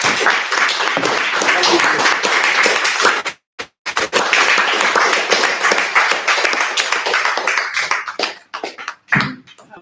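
Audience applause and cheering after a talk at a live-streamed event, loud and dense, broken by a brief pause near the middle before resuming and trailing off in scattered bursts.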